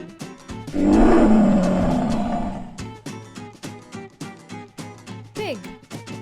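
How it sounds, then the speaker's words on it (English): A lion gives one long, loud, close roar lasting about two seconds, followed by a rhythmic chugging train-like sound effect and cheerful music for a children's animal sounds sequence. "Lion."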